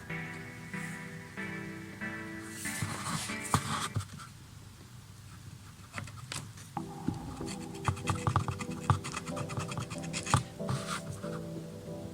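A scribe scratches a reference mark onto a Sinpar gearbox during restoration, giving close, rough scraping strokes that come in irregular bursts with small metallic clicks.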